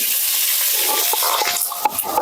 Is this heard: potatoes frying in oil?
yes